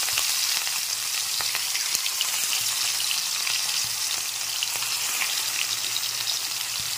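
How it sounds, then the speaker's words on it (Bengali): Rohu fish pieces frying in hot oil on high flame, a loud, dense, continuous crackling sizzle with tiny spattering pops throughout. "তেল গরম হয়ে গেছে, এবার আমি মাছগুলো ভেজে নেব।"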